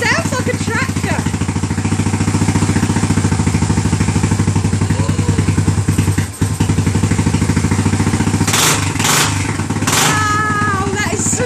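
A Suzuki SR250 motorcycle engine runs steadily and loudly throughout with a lumpy, tractor-like rhythmic chug, while people talk excitedly over it and a brief dip comes midway.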